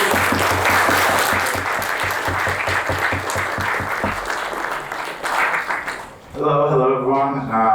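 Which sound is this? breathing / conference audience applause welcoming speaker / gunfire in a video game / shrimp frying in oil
conference audience applause welcoming speaker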